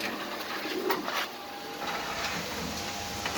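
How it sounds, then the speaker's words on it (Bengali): Pigeons at a pigeon farm give soft cooing calls over a steady background hum, with a couple of brief louder bursts of movement early on. "এই কবুতরগুলো দেখতে অনেক সুন্দর ভাই"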